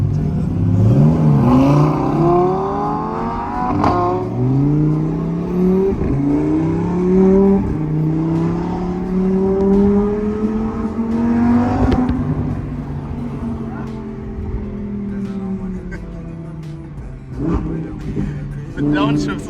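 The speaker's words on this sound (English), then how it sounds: "The downshifts are just the best." A Lamborghini Huracan Evo Spider revs and downshifts close by, a loud engine note sweeping up and down with sharp blips as it drops gears, with no talk over it.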